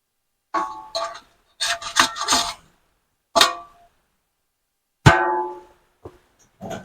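An old metal dustpan scrapes through clumpy potting soil in several separate rough scraping strokes, each short, up close, with pauses between them.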